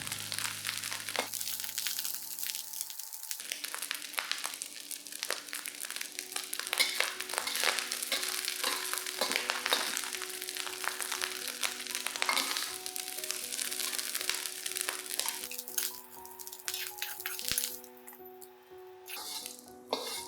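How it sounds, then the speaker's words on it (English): Dried shrimp frying in oil until golden and crispy, a crackling sizzle with scattered pops and occasional stirring, fairly quiet and steady, no voices. "Fry all this till they become fragrant, golden brown, and crispy."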